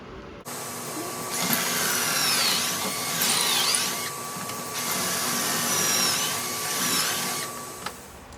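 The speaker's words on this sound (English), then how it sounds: "I got my pocket holes drilled" A power drill bores pocket holes through a pocket hole jig for a wooden Christmas cactus, revving loudly in several long surges with short dips between them, close up and alone.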